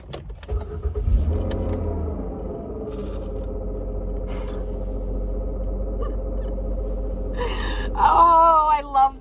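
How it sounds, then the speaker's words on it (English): A car engine cranks and catches, then settles into a steady idle hum with a higher whine on top, growing louder near the end; no talk over it. "you guys want to hear the sound my car makes when it turns on?"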